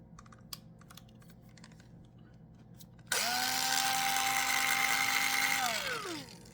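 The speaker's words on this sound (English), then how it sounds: "you need to have the drill bit go through and through" A small drill bit bores into a broken drawbar screw embedded in an engine, a faint scraping first, then the motor whines up loudly and steadily for a few seconds before winding down.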